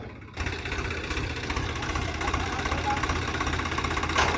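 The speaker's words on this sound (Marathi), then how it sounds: "हे बघा आपण इथपर्यंत आणलेला ट्रॅक्टर" A farm tractor's engine idles steadily after a brief quiet start, a low rumbling knock running evenly throughout with faint background noise, out in a rainy village setting.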